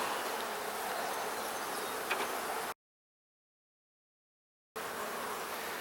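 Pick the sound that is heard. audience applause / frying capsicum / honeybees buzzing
honeybees buzzing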